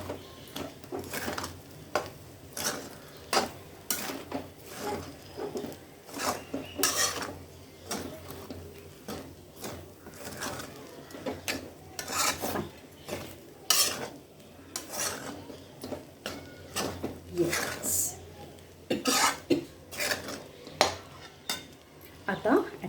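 A spoon stirring sabudana khichdi in a metal pan, with repeated scraping and clinking strokes in an uneven rhythm, close and fairly clear with no talking.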